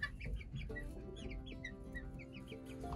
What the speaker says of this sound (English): we can't forget the guinea fowl and my blue egg layer